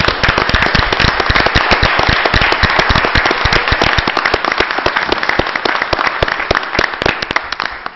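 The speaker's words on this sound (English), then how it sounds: "she deserves a great round of applause." Loud, sharp round of applause in a committee hearing room, individual claps crisp and close, continuing densely for several seconds before thinning out.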